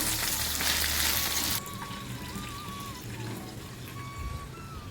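Okra kara kuzhambu, a spicy tamarind curry, simmering and bubbling in a pan, with a loud sizzling burst at first that settles into softer steady bubbling and light stirring.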